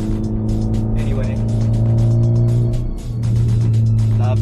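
A sporty car's engine revs and drones steadily from inside the cabin while driving on a hot Florida day with the AC running, a loud low hum that dips briefly before resuming.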